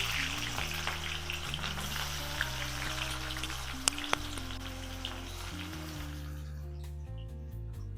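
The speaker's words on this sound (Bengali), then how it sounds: "আমি এবার পেঁয়াজগুলো কড়াতে ছেড়ে দিচ্ছি" Onions hitting hot oil in a kadai, a steady close-up frying sizzle that runs continuously, with a low tonal hum underneath and a couple of sharp clicks midway.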